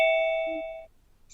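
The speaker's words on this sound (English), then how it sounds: "Goodness, someone is ringing." A single doorbell chime rings clearly in a quiet room, a bright ding-dong tone decaying over under a second, followed by near silence.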